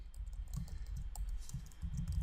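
Steady typing on a computer keyboard, with quick irregular key clicks and thumps running through the whole stretch, fairly close and with no talk over it.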